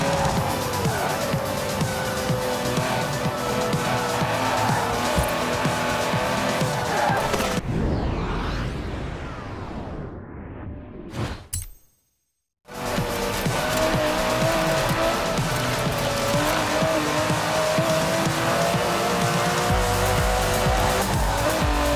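An Aston Martin DB11 in Forza Horizon 4 races hard with a loud, sustained engine roar and tire squeal, dropping away briefly to near silence mid-run before the roaring drive resumes.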